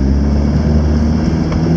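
Off-road vehicle engine labouring up a steep track in Australia, a loud, steady low drone with a constant droning hum for the whole short stretch, no voices.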